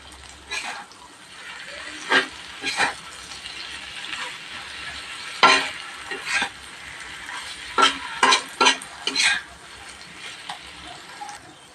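Prawns stir-fry with coriander and curry leaves in a steady, close hiss of sizzling, broken by repeated scraping strokes of a spatula against the pan.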